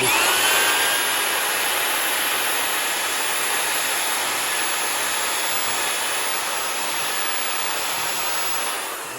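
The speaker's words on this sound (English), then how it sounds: "Whoops, I broke my drill." Loud, steady whine of an electric drill boring into a bonsai trunk at close range, running continuously and fading slightly at the very end.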